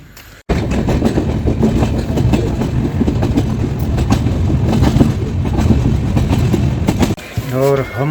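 A passenger train arriving at Pratapgarh Junction rumbles steadily and loudly on the rails with rhythmic clatter, a voice speaking briefly near the end.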